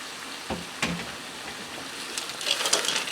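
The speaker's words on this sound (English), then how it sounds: "I'm going to give this a stir." Taco tot casserole mixture with corn and drained black beans being stirred in a pan, giving soft scraping and faint sizzling with a few clinks, growing busier toward the end.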